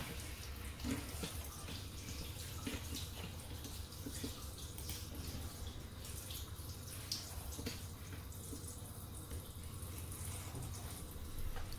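Shower water running in a video game, a constant soft spray and splash at low level that carries on without a break and without speech.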